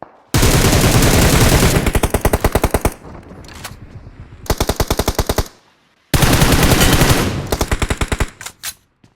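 Gunfire in the battle royale video game PUBG: loud, close automatic bursts with rapid even shots in three main volleys separated by short pauses, ending in a few scattered single shots.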